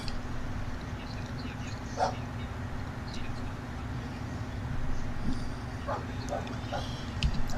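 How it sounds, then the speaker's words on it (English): A neighbor's dog yips and whimpers faintly in the distance, scattered brief calls over a steady indoor hum. "If you guys hear a dog, the dog's my neighbors."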